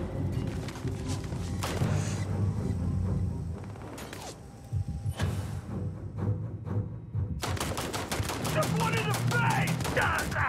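Bursts of gunfire from the video game Starfield during a fight on the moon, with rapid volleys of shots separated by short pauses and a dense final burst, with faint talking at times.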